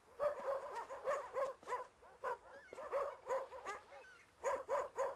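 Several dogs bark in sharp, repeated bursts, some yelping and whimpering, with brief pauses between volleys; fairly close and moderately loud, no talking.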